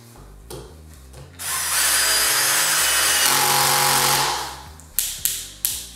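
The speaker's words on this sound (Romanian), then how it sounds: "o să vă las să urmăriți testele pe care le-am făcut cu această mașină de găurit și înșurubat cu acumulator de la Total" A Total 20V cordless drill driver on speed 1, clutch position 3, drives a 6x80 mm screw into wood with a loud rising whir and grinding for about three seconds, followed by three sharp clutch ratchet clicks.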